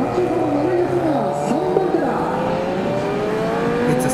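Racing Kawasaki motorbikes accelerate hard off the start of a six-lap sprint race, a loud, continuous layered engine whine that climbs in pitch, with a commentator's voice running over it throughout.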